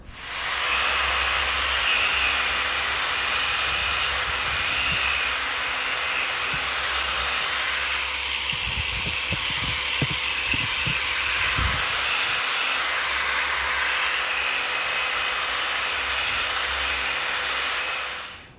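Steady, loud whirring drone of a rotary polisher with an 800 grit pad working a large Petoskey stone, continuous from start to finish with brief scraping bursts midway as the pad presses on the stone's edge.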